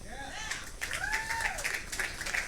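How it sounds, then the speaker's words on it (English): Wrestling show crowd clapping and cheering in an arena, a continuous spread of applause with a voice talking over it on a mic. "you guys can clap for me and cheer for me all you want"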